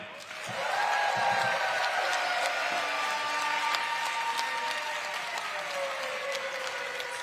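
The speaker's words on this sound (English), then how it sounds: "a big round of applause for Vivian!" Sustained audience applause in an arena at a FIBA 3x3 women's basketball finals event in Debrecen, steady and full for several seconds with a tonal whistle-like hum running beneath the clapping.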